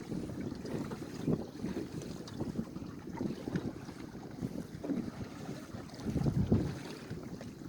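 A sailboat under sail alone with no engine, heading east-southeast: steady rushing wind and gusts buffeting the microphone over the wash of water along the hull. No talking.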